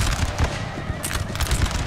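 Artillery and musket fire crackles through a Napoleon Total War battle as Danish skirmishers come under attack, a busy run of sharp overlapping pops and thuds at mid distance, irregular and dense.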